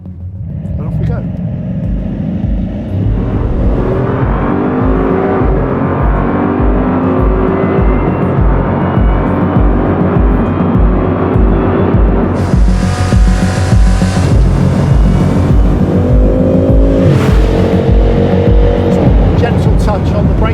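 Bugatti Chiron in top-speed mode accelerating hard toward 420 km/h, a loud, continuous deep engine roar with steadily rising pitch and heavy wind rush building from inside the cabin, sustained throughout with no letup.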